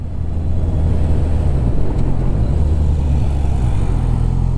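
Honda CB650R motorcycle engine easing through a smooth downshift on the road, a steady low drone with wind rush at the microphone, continuous and close with no sharp revving peaks.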